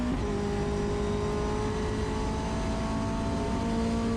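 A Mazda MX-5 Cup race car with 180 horsepower running on track, its engine holding a steady loud drone from inside the car, even and unbroken throughout with no talking.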